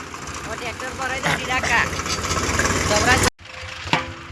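A stuck tractor engine runs at night, a steady mid-pitched chugging close by under a voice, cutting out abruptly near the end before a brief resumption.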